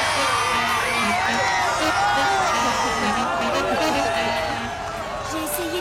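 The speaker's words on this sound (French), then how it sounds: "Applaudissons nos valeureux champions et laissons-les se reposer." A crowd cheers for the champions of a street football match, with whoops and excited voices blending into a continuous, loud wash over the speaking voices.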